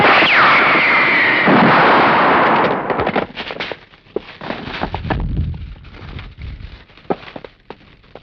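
Gunfire in a courtroom scene from the Tamil film Palaivana Paravaigal: a loud sustained burst of shots and blasts, then a rapid scatter of sharp cracks that fade into a noisy ambience.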